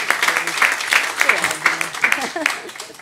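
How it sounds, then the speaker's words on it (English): An audience at a telehealth event gives a short round of applause, scattered clapping mixed in with people talking over it. "I think she should get at least a little round of applause for that"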